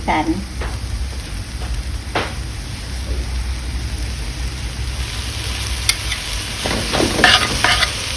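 Mee sua noodles stir-fried in a pan with a splash of sweet soy sauce, giving a steady sizzle with scraping stir strokes and clatters throughout, fairly close and busier near the end.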